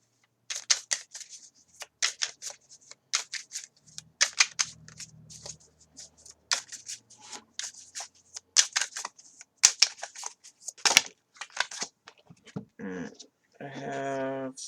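Repeated crisp clicking and riffling of tarot cards being shuffled and laid down, close by, with a brief burst of talk near the end.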